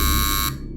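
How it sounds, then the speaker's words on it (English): An electronic door buzzer blares a harsh, steady tone, then cuts off abruptly about halfway through, leaving a faint hum. "to the sound of my buzzer going off. Over and over again."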